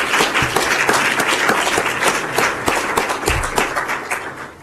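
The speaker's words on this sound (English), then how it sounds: "So I'm sure you get a good round of applause." Audience at a Horizon 2020 presentation event gives a round of applause, dense clapping close and loud at first, with a few distinct sharp claps, gradually thinning out.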